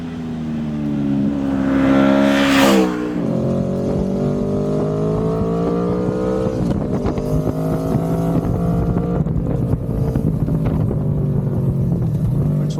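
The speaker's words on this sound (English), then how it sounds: "This is the stock exhaust." Stock exhaust of an Aprilia Tuono V4 Factory motorcycle, loud and close, with a rising rev that drops back and then a steady rumbling engine tone that builds and holds.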